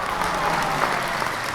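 A dense crowd applauding together, steady and fairly loud clapping that lasts the whole short moment with no break.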